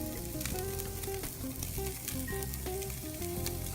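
Steak sizzling in a hot pan just after being flipped, a steady broadband crackle and hiss that stays loud and continuous throughout, with scattered pops and faint background tones and no talking.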